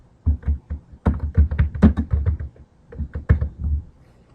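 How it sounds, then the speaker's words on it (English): Keystrokes on a computer keyboard while text is entered into a text editor, a close, irregular burst of clicking and tapping with short pauses between runs of keys. "all I would need to do is go into my text editor, type in the text that I want to place"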